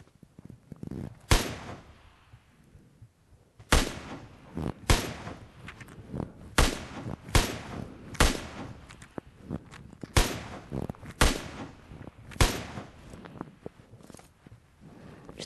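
Sharp gunshots crack in an irregular series, some single and some in quick pairs, with soft footsteps and movement between bursts in a PUBG Mobile match on the Miramar map.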